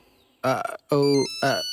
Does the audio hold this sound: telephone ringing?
yes